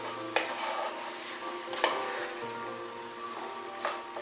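Dried oregano and cumin are stirred into a pot of chili verde, with a steady low simmer and sizzle. Three distinct spoon scrapes knock against the pot, close and moderately quiet, with no talking.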